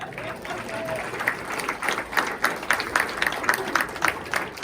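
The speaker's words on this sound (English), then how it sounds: "let's have a nice big round of applause for this lady" An audience at an Eastern Iowa hall of fame induction ceremony claps steadily, a moderate crowd heard from within the hall, with voices murmuring underneath.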